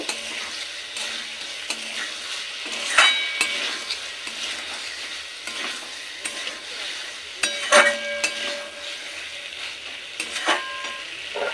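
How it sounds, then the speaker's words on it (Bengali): Fried potato and pointed gourd being stirred into masala in oil for a Bengali rui fish curry, a steady sizzle broken by a few sharp spoon-and-pan scrapes and clinks, close and moderately loud with no talk. "আলু পটলটাও মশলার সাথে খুব ভালো করে মিশিয়ে নেব।"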